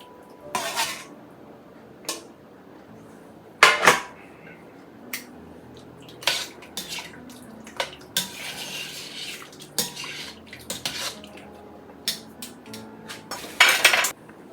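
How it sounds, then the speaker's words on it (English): Beef for a slow-cooked stew goes back into a metal pot, heard as sharp clanks and scraping of a utensil against the pot, with soft sizzling between the repeated knocks. "We're going to add the remainder of our meat back to the"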